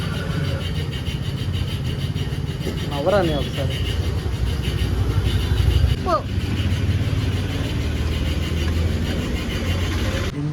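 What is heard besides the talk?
motorcycle engine starting and idling after carburetor fitted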